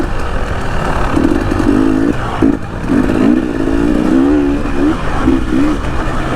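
A trail motorcycle on an off-road trabas event route revs loudly and close in repeated rising surges, engine note climbing and falling with rough clattering underneath.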